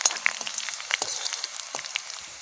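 Two cut dried red chilies fry in hot oil in a pan for a pepper rasam, giving a soft, steady crackle with scattered pops, heard up close.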